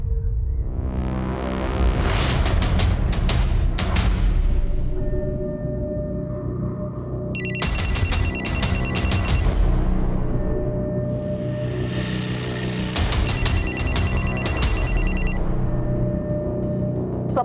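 A telephone rings in repeated bursts, bright and electronic, over a swelling dramatic music score in a Hindi TV crime drama scene.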